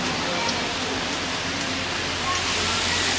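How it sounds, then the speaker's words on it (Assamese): Steady rain pours outside during evening shooting, a dense even hiss of drops on surfaces that fills the moment without letup. "এতিয়া বৰষুণ দি আছে বাহিৰত"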